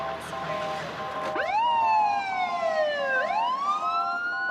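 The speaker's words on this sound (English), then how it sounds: "Finally, Annie's ambulance gets the call." An emergency siren wails, rising and falling in two long sweeps over a faint background rumble, fairly close and loud.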